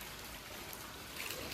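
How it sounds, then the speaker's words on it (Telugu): Rainwater running during heavy rain near a house, a steady, fairly faint trickling flow that holds even throughout, with no voices over it. "చూడండి ఫ్రెండ్స్ ఎంత వర్షం పడుతుంది"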